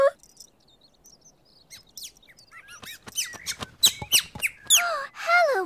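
A cartoon character imitates a brown bird's call with a voice, starting with a few faint squeaks and building into a rapid run of loud, rising and falling whistled chirps.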